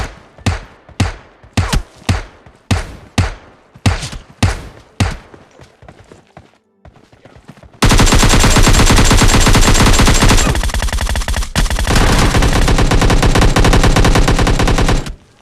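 Groza and M249 gunfire in the PUBG Lite video game: a string of loud, separate shots for about seven seconds, then a dense, continuous burst of automatic fire filling the rest of the clip.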